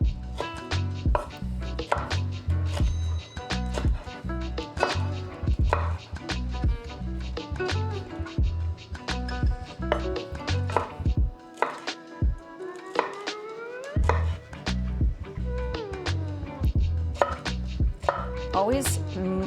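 A knife chops chicken into strips on a cutting board for honey glazed chicken, a quick steady run of close, sharp knocks that pauses briefly midway and then resumes at the same pace.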